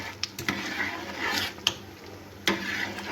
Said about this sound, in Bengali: তো মশলাটা আমি দিয়ে এবার কন্টিনিউয়াস কিন্তু এভাবে নাড়তে থাকবো